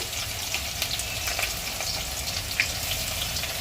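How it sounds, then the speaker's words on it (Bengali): Onions frying in a pan produce a soft, continuous crackle with scattered little pops and spits, fairly quiet and close. "কিছু পেঁয়াজ যেটা ভাজায় রাখলাম, এই পেঁয়াজটা আমি ভেজে নিচ্ছি।"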